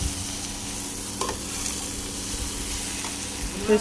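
Bitter gourd stirred and fried in a pan produces a steady sizzle with scraping stirring strokes and a light clink near the end.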